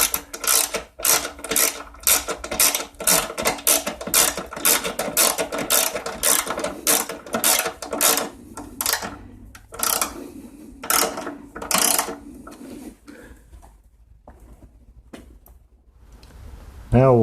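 Quick clicking ratchet strokes tightening a 5/16 nut on the oil fill tube of a 2002 Craftsman Tecumseh 4.25 HP engine, a fast close series that slows and stops, with someone speaking at times.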